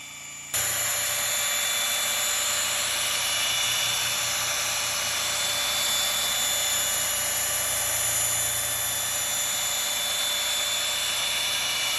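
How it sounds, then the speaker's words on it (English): A power polisher buffs 74-year-old aluminium skin on a 1947 Cessna 120, a steady, loud high-pitched whine with a constant hum underneath, running without pause and without talk. "he decided that he wanted to learn some metal polishing today as well"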